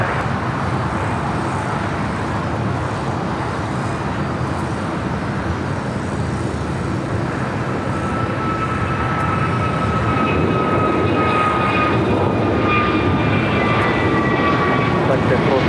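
A jet airliner roars steadily during its takeoff roll on runway 25 right at LAX, the loud engine noise sustained and building slightly, with a radio voice talking over it.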